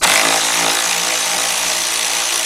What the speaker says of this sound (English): grab you a 10mm shallow socket 3/8 drive with a 3/8 drive ratchet, and I'm using cordless ratchet